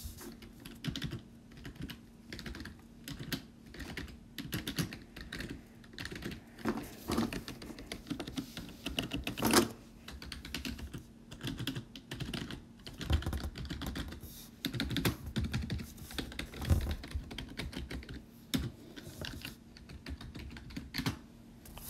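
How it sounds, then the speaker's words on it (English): Typing on a computer keyboard being reviewed, a continuous run of fast, close, quiet key clicks and taps in irregular bursts with no speech. "now we're gonna be doing some ASMR with the keyboard."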